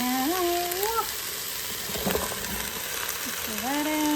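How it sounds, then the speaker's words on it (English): Food sautés in an Instant Pot, giving a steady, close broadband sizzle throughout, with a voice briefly heard over it near the start and end. "that's what it's going to look like when it's sauteed"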